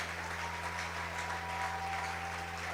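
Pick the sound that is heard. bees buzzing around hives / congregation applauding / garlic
congregation applauding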